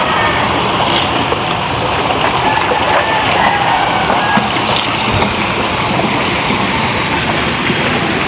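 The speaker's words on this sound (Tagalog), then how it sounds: "tingnan mo yung ilog namin" Continuous rushing river water, loud and close, a steady broadband wash with slight surges and no talking, in rain.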